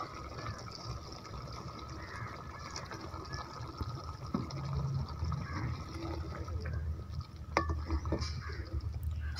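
Water being added to a pan of frying potato and fenugreek curry (aloo methi masala), a steady pouring and bubbling wash with low rumble throughout and a few brighter splashes toward the end.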